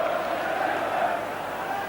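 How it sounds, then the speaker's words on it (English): Football crowd at the 1990 FA Cup semi final between Crystal Palace and Liverpool, a steady distant roar of chanting and cheering filling the stadium. "the crowd joining in to lift the occasion"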